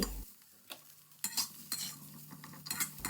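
A spatula scrapes and stirs in a hot pan while chili and garlic sizzle, with irregular metallic scrapes and clinks.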